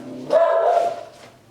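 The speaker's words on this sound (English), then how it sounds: "dog barking" A dog barks once indoors at neighbors, a single clear, fairly loud bark nearby with a brief tail of sound afterward and no talking over it.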